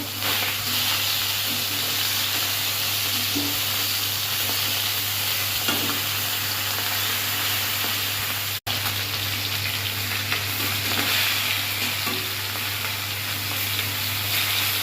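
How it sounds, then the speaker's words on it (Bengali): Boiled taro leaves frying in a pan, a loud, unbroken hissing sizzle like rain over a steady low hum, with one abrupt momentary dropout midway and no speech. "কচুর শাক সেদ্ধ করে নিয়েছি, এগুলো ভাজা হচ্ছে"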